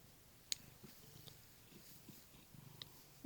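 A pet cat purrs very close to the microphone, a soft low rumbling pulse that carries on throughout, broken by a couple of small clicks. The purring is faint and heard alone, with no speech.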